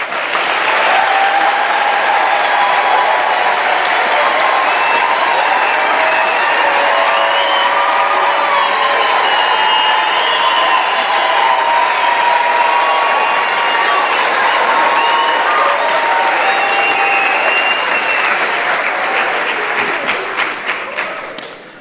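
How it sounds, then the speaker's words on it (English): Loud, sustained applause from a large graduation ceremony audience for engineering and built environment graduates, a thick continuous wash of clapping with faint cheers and whistles mixed in, tapering off right at the end. "I think they all deserve another round of applause."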